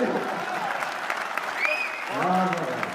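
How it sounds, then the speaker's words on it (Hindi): Audience applause at a poetry recital, a thin, scattered patter of clapping from a crowd that runs throughout, with a voice speaking over it. "कमजोर ताली आई है, इसको काम नहीं करेगा।"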